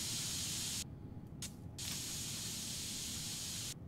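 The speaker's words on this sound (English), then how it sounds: "Select spray to start painting." Continuous loud spray hiss from a paint can coating a PC case in the video game PC Building Simulator 2, broken by two brief gaps before resuming steadily.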